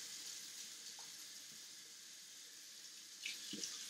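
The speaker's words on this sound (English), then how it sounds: "Bring the dish under the running water until all of the bubbles are off of the dish." Kitchen tap water running steadily over a dish during washing-up, a faint continuous hiss and splash with a few small clinks near the end.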